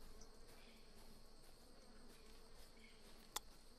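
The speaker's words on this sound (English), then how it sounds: "It sounds like a bee." Insect buzzing in the video game ARK Survival Evolved, a steady, fairly faint drone like a bee or wasp hovering nearby, with one brief sharp click near the end and no talking.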